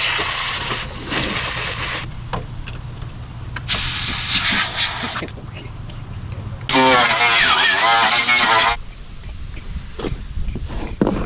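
Compressed air blows out a repair area on an old car's body before skim coating, in several loud hissing bursts of one to two seconds each, heard against background noise and voices.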